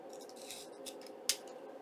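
Scissors snip paper for a junk journal card topper, a quiet close rustle with one sharp crisp cut near the end, alone in a still room.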